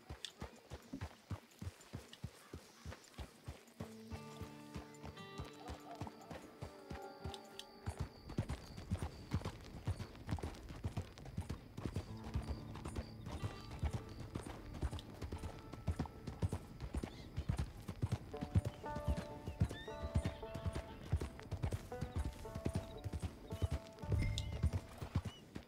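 Hooves of a horse in the video game Red Dead Online clop in a steady, close, repeating rhythm for nearly half a minute, with whinnies breaking in now and then over a tonal game soundtrack.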